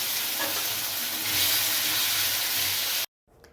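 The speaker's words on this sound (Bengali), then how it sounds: "হালকা ভেজে নেবো খুব একটা কড়া করব না সামান্য ভেজে নেব" Potatoes fry lightly in a pan with a steady hiss and crackle for about three seconds, then it cuts off and leaves near silence and a small clink.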